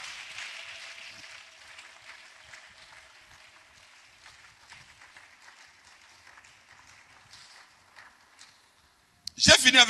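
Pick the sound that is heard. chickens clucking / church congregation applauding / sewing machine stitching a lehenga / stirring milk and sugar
church congregation applauding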